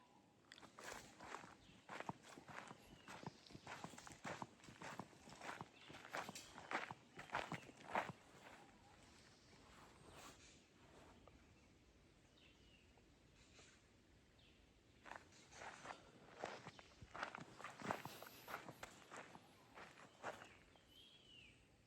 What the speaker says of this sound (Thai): ไม่รู้มีใครเดินไปข้างบนหรือเปล่าทุกคน